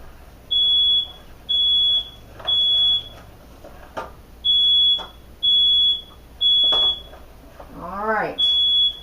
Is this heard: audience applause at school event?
no